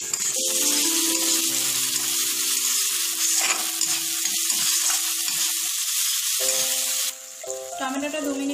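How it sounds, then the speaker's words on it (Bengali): Onion and chopped tomato fry in a pan with a steady, loud sizzle throughout, shifting slightly in tone near the end as the mixture settles; no talking over it. "টমেটো দিয়ে 2 মিনিট মতো ভেজে নেব।"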